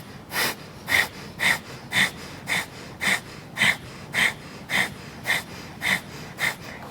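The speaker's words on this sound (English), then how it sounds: "start those quick exhales through the nose" Rapid, forceful nasal exhales of breath of fire during a kundalini yoga kriya, about a dozen sharp even puffs roughly every half second, close and steady, with no talking.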